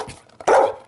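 A pet dog gives a single loud, close bark after some faint snuffling, the sharp burst fading out quickly.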